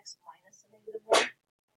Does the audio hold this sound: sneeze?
yes